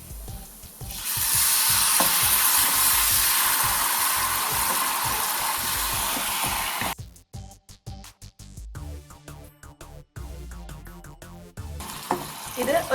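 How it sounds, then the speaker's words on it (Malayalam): Tamarind water poured into a pan of sautéed onions for Kerala ulli theeyal, a loud steady hiss of sizzling and simmering that holds for several seconds before breaking into quieter, patchy bubbling and spatter. "ഇനി ഇതിലേക്ക് പുളിവെള്ളം ഒഴിച്ചു കൊടുക്കാം."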